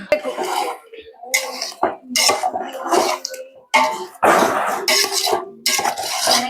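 A spoon scrapes and clatters against a pan while biryani masala is stirred and fried, with irregular metallic bursts and scraping close by, interrupted by short pauses.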